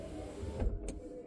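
The power window motor of a 2007 Ford Crown Victoria whirs briefly and faintly inside the car, a short mechanical hum that peaks for a moment and then settles. No one speaks.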